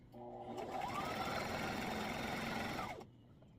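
Sewing machine stitching a fabric table runner, a steady continuous mechanical whir that runs close and loud for about three seconds, then stops abruptly.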